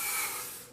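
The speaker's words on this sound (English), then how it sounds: "by spraying my silicone WD-40" Short burst of silicone WD-40 spray hissing from an aerosol can, broad and steady, fading slightly toward the end, with no voices.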